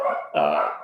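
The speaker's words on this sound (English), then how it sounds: "it's sorry about the dogs in back." A dog gives a short, close bark, two quick voiced yelps back to back, heard alone.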